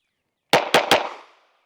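Three pistol shots at a shooting range in quick succession, loud sharp cracks about a fifth of a second apart, each trailing a short decaying echo, with silence before and no talking.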